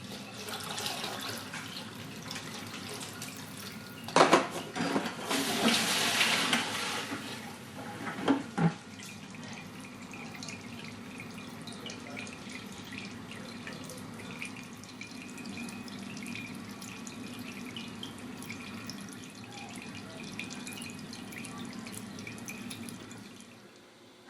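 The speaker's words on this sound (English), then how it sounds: "Once I've distilled the alcohol, put it into the top barrel here and I'll let it drip through the carbon filter." Home-distilled alcohol drips from a top barrel down through a carbon filter, with a few louder splashing bursts early on, then a steady, soft trickle and patter that carries on alone.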